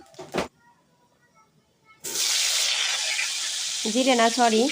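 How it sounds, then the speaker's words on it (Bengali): A sudden burst of loud, crackling sizzle as cumin and black cumin seeds hit hot oil in a wok, continuing steadily while a voice starts talking over it near the end. "এখন এই যে কড়াইতে তেল দিয়ে দিলাম, জিরে সম্বার দিয়ে দিলাম"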